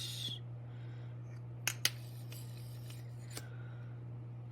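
Polymer clay being cut with a blade, a few sharp soft clicks and slices close by over a steady low electrical hum, otherwise quiet.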